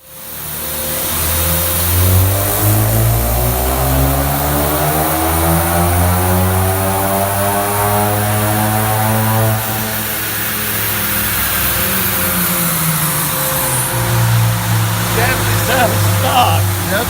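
A Ford engine on a stock tune revs up and holds on a dyno, either a 2015 F150 3.5 or a Mustang 2.3, with a loud, raspy rising drone. The pitch sweeps up and then sustains, with a second rev near the end.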